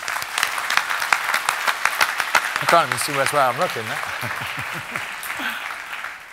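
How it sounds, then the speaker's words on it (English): An audience at a UK industry talk on street art applauds a guest artist, with scattered claps continuing while someone speaks up close over them. "A massive a round of applause for Chu."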